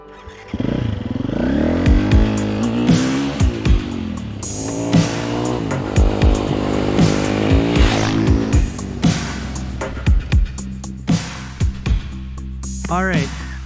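A Husqvarna FE350s dirt bike ridden close by, its engine revving and shifting through rising and falling pitches with repeated throttle blips and a steady loud drone, ending in short sharp bursts.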